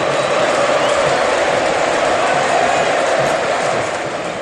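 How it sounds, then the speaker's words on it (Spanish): A packed football stadium crowd roars in a steady ovation for Luis Suárez at a Nacional match during Uruguay's 2022 championship season, with a dense wash of cheering and clapping that holds constant throughout. "Creo que la gente de la ovación es clara"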